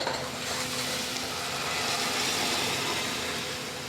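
Dal hits hot tempering in a home kitchen with turmeric and coriander, giving a steady, loud sizzle and frying hiss that holds evenly throughout with no talk.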